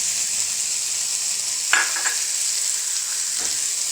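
Capsicum and carrot stir-fried in a pan for a beef khatti roll, a steady bright sizzle running throughout with a couple of brief scraping stirs of a utensil against the pan.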